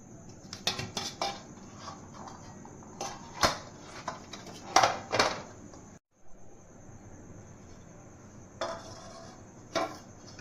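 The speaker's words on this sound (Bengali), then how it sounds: "এবার আমি এই থালাটাকে এই থালার ওপরে উল্টিয়ে দেবো।" Two plates clink together as one is flipped over onto the other, holding a rested sabu-potato snack: several sharp clatters and knocks, a brief pause, then a few more clinks nearby, no talking.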